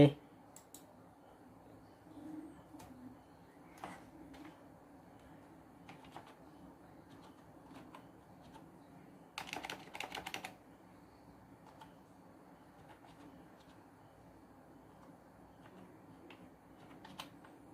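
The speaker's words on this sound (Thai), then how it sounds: "ทีนี้ เราจะมาลองพิมพ์กันดูนะครับ ว่ามันใช้งานได้ไหม" Keys clack intermittently on a USB keyboard connected to an Android TV box, with scattered single clicks and one brief flurry of quick taps in a quiet room, close and fairly soft.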